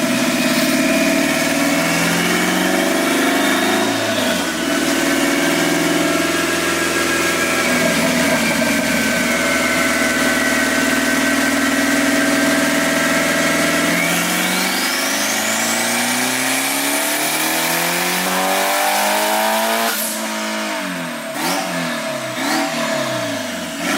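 Turbocharged car engine on a dyno, loud and close, idling then revving hard in long rising pulls to high RPM, dropping back and climbing again, with no talk.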